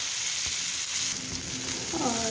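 Spices roasting in a little oil in a pan for a Maharashtrian okra-seed amti give a steady close sizzle with a few light scraping stirs, and a brief brighter crackle near the end.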